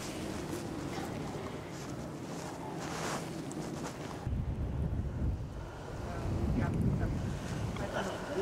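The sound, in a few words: chilly wind blowing at Sunny Beach, Bulgaria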